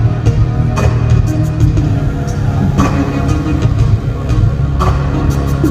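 A Caterham 620R sports car drives in an indoor live-action arena at a motorsport show, its loud engine droning and revving with sharp bursts, heard up close amid reverberant hall noise.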